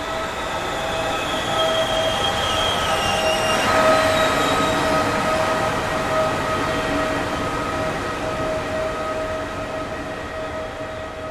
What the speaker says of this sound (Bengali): আমার সামনে দিয়ে রেলগাড়িটা গর্জন করতে করতে বেরিয়ে গেল